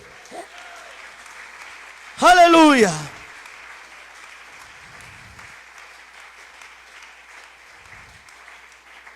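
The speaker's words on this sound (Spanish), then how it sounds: "Un aplauso para Él." A church congregation applauds in a steady, even wash of clapping that runs throughout, while a voice calls out loudly over it for a moment.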